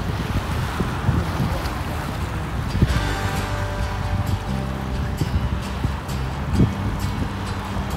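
Steady wind buffets the microphone by the sea, with a low rumble of surf and engine-like hum underneath; no voices.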